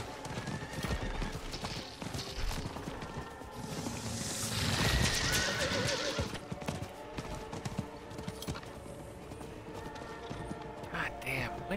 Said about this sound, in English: The only reason it's not that far is because we have horses.